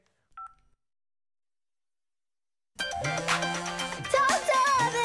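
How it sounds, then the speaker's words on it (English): In an animated children's cartoon, a single short telephone keypad dialing tone sounds faintly after near silence. A few seconds later, music and lively cartoon sound fill the scene. "Now I can give a call to Katya and tell her she left her phone over here"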